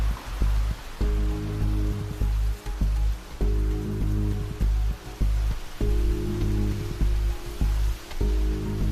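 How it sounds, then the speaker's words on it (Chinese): Heavy rain pours down outdoors in a downpour, a dense constant hiss, while a low humming tone with harmonics pulses on and off underneath. "淋湿了没有？ 这么大雨，"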